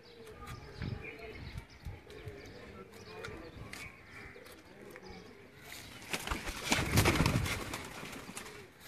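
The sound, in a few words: pigeons cooing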